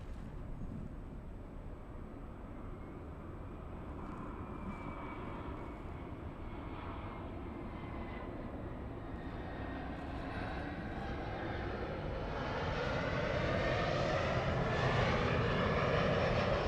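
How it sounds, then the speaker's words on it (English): United Airlines flight 1791 taking off from Los Angeles for San Francisco: a steady, distant jet roar that swells gradually and grows louder toward the end, with no other sounds. "The takeoff is going to San Francisco."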